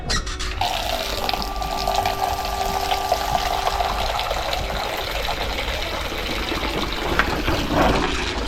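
Water pours steadily into a bird water pot, running for several seconds as a close, even trickle over a constant background hiss, with no voices.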